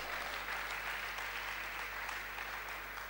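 Applause from a conference audience at a variety and award night, a steady, even wash of clapping filling the whole stretch at moderate distance with a constant low hum underneath.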